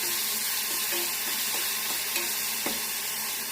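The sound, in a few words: ground green chilli, coriander and salt paste frying in pan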